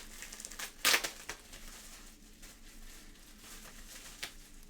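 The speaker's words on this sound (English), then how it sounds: "let me unwrap this." Faint crinkling of wrapping being pulled off a stationery package, with one sharper rustle near the start and then soft, scattered rustles, quiet and close.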